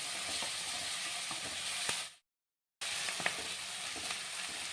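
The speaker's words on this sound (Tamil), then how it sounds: "இப்போ நல்லா வெங்காயம் நல்லா வதங்கிருக்கு" Steady sizzling of onions frying in a pan, with faint stirring clicks; the sound cuts out briefly midway before resuming.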